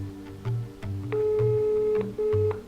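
A mobile phone places a call to another phone shut inside a metal box, producing a sequence of short electronic call tones and beeps, a sustained steady tone in the middle, then another brief beep, close and clear.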